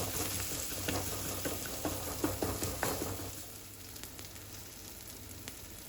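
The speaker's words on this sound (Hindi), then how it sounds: "सभी मसालों को हम अच्छे से पका लेंगे" Ground spices and garam masala cooking in a pan for ragda, a steady soft sizzle with light stirring scrapes, louder at first then settling into a quieter fry.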